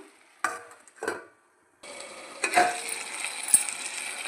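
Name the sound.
okra, green chilli and tomato sizzling in a pan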